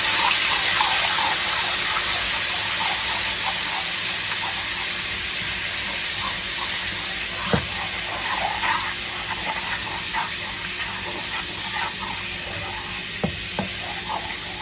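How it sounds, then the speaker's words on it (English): Water poured into a hot pan of butter chicken masala sizzles and hisses steadily throughout, a dense bright frying sound with a few soft clinks of stirring, close and loud. "Now I'm adding a little bit of water,"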